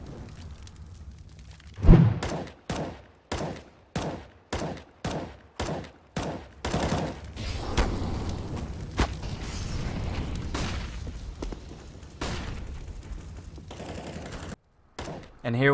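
Shooter-game gunfire: a run of evenly spaced, punchy bursts about every half second, then denser, continuous shooting that fades toward the end.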